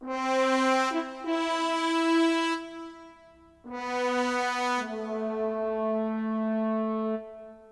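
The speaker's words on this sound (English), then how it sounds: "And then I added a French horn for harmony," A French horn plays harmony in a music track: a few held, mellow notes in two phrases separated by a short dip, moderately loud with no talking.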